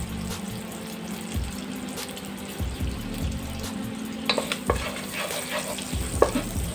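Cumin and fennel seeds fry in hot oil and butter for a biryani, a steady close sizzle with a stirring spoon scraping the pan and a few sharper clinks near the end; no one speaks.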